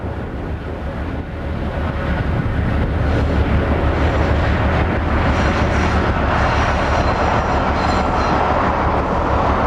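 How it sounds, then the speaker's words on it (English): A Class 770 diesel locomotive shunts in a rail yard, giving a loud, steady engine drone and rumbling wagon noise that swells slightly after the opening seconds and then holds constant. "Yard shunting was being carried out by one of the ubiquitous Class 770 diesels."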